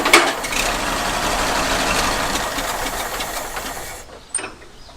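Old abandoned tractor engine running after a hand-crank start, a rough, rapid chugging rhythm held steady at moderate loudness, then fading down near the end with a brief clank.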